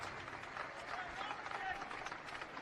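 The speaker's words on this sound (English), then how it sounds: "Gets a nice applause from some of the White Sox fans that are in attendance here tonight" White Sox fans and ballpark staff applauding a returning player at a night baseball game in Chicago, a faint, distant spattering of clapping under the crowd's murmur.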